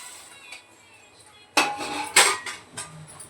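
Ground masala paste for a matar paneer dish being scraped and tipped into a pressure cooker, with a few sharp metallic clinks and knocks of a utensil against the pot, close and moderately loud, following a quiet lead-in.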